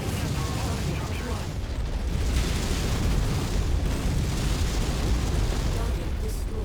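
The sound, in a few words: missile explosion in MechWarrior 5 video game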